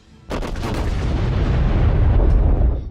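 The South Carolina, a Tier III warship in the video game World of Warships, fires its artillery in a sudden heavy salvo, a loud booming blast followed by a long rolling rumble that fades out over a few seconds.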